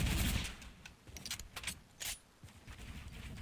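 Fortnite gunfire arrives in a few sharp bursts, with short cracks scattered across the moment, fairly quiet and some distance off, and no talk over them.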